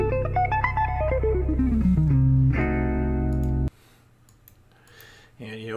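A fully diminished arpeggio on a distorted electric guitar runs as a stepped sequence of notes, ending on sustained chords before a brief quiet pause and a final distorted strum, loud and alone.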